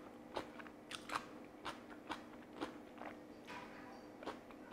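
Repeated crisp crunches of someone biting and chewing vegan cucumber kimchi, about eight sharp snaps spread irregularly over a few seconds, close up and fairly quiet with no talking.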